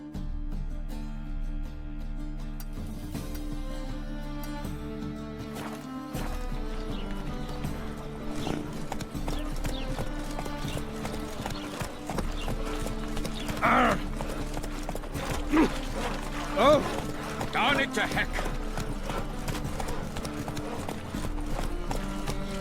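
Horse hooves clip-clopping in The Witcher 3 video game, a steady rhythmic trot over constant in-game music, with a few brief sharper accents partway through and no talk.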